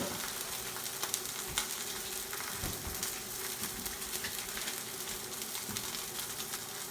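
Butter sizzles and fries steadily in a hot pan, a dense continuous crackle with occasional louder pops and spits, close and even throughout with no talking.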